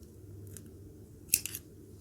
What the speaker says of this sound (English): And then you can just go ahead and cut your yarn.